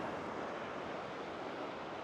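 Ocean surf at Big Sur, below a clifftop campground overlook, makes a steady, dense wash of waves with no voices.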